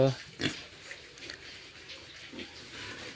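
Farm pig grunting in a pen, several short, close grunts scattered over faint background noise and a hint of water.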